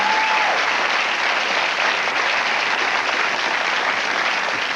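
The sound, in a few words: TV studio audience applause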